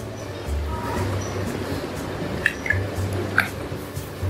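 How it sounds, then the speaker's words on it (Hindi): Chunks of potato dropped into chicken gravy in a cooking pot for Bombay biryani, giving a few soft, wet plops and squishes over a low, steady kitchen background. "ये आलू डाल देंगे, आलू को सॉफ्ट होने तक पकाएंगे।"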